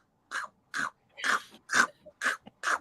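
A voice imitates loud, closed-mouth chewing of chips, with seven short, crunchy, breathy bursts spaced roughly evenly in quick rhythm, close and clear with silence between them.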